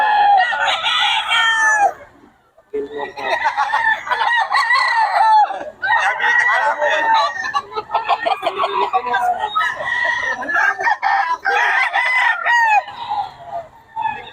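Gilmore Hatch gamefowl roosters at a gamefowl sale in Bocaue crow loudly and repeatedly, the long calls overlapping one another with short gaps between, while people talk in the background.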